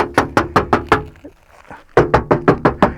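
Knocking on the car door of an old station wagon: two loud, close bursts of about six rapid, evenly spaced knuckle raps, separated by a short quiet pause.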